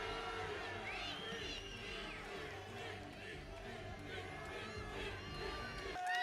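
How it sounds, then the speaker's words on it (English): Distant crowd noise at the 2014 Mr. Olympia bodybuilding contest, a steady roar of cheering and shouting that stays fairly faint and far off, with scattered voices in the mix. "Crowd roars."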